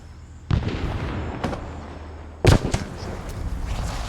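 Grenade blast in the ArmA 3 military game, two sharp booming bursts about two seconds apart with rumbling tails, loud and close, no voice over them.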